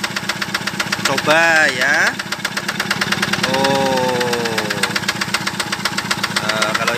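A single-cylinder Yanmar TF65 6.5 HP diesel engine drives a 3-inch Ebara water pump, knocking steadily and loudly at close range with a rapid even beat while someone speaks over it.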